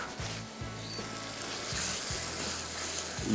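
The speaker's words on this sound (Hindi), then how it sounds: "ये ग्रेवी इसकी तैयार हो रही है।" Chana gravy simmering and sizzling in a pan, a steady broad hiss with low bubbling thumps recurring every half second or so, no voices.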